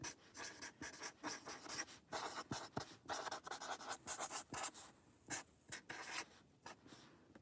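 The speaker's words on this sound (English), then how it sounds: "I don't want to write it with that," A pen scratches across a surface in short irregular strokes and bursts, close and fairly quiet, with brief pauses between marks.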